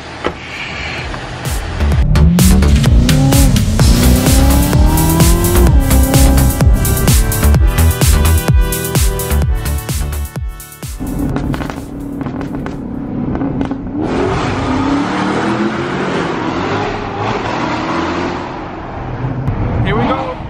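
Corvette Z06 sports car accelerating hard, engine revving with rising pitch through gear changes, loud and close, then easing off and pulling again, with people talking over it.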